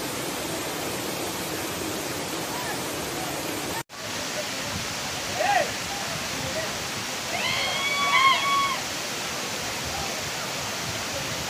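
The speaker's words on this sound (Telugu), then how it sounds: "జలపాతం కొండల నుంచి దూకుతూ ప్రకృతి అందాన్ని కలిగిస్తూ విహారయాత్రకు మారిపోయింది" After five days of rain, a waterfall cascades down the hills at Kona Uppalapadu, a constant broad roaring rush that stays steady throughout, with faint bird calls and brief voices in the background.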